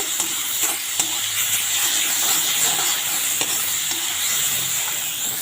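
Tomatoes fried and stirred in a pan for fish curry, a steady close sizzle with hissing steam and occasional scraping clicks of the spoon, no talk.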